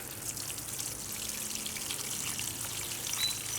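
Water sprays down onto container plant leaves, a steady soft hiss and trickle of soaking liquid, moderately quiet and continuous with no talk.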